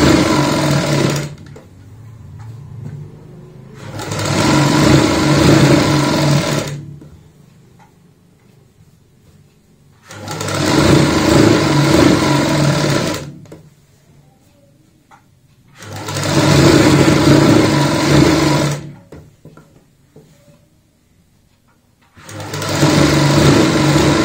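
An electric sewing machine stitches around the hem of a child's frock with a one-inch margin, running in four loud, steady bursts of several seconds each, separated by quiet pauses.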